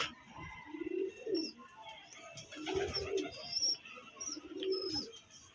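Pigeons give repeated cooing phrases in three clusters, close and clear, with thin high chirps scattered over them and faint voices in the background.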